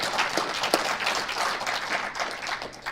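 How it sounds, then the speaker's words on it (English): Steady crowd applause at an armwrestling referee seminar, a dense wash of clapping hands continuing throughout without a break. "You guys can give them applause, that would be fine."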